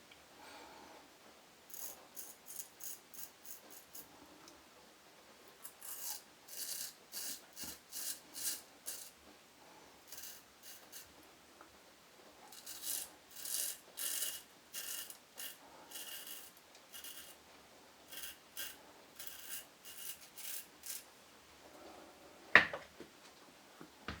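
A Thiers Issard straight razor scrapes across skin during a traditional shave, heard as faint, close bursts of short rasping strokes in clusters, with pauses between them and one sharp tap near the end.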